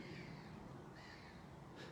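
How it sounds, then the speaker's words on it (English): Crows caw faintly and far off, a couple of brief calls above a soft, steady outdoor hush on a walk among trees in Hamilton. "still you can hear all the birds"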